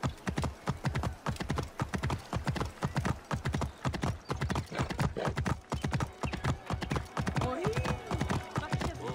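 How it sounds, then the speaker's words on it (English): Horse hooves gallop in steady, rapid clip-clop rhythm across open ground in the video game Assassin's Creed Origins, loud and close throughout, with a brief whinny near the end. "Let's go, horse."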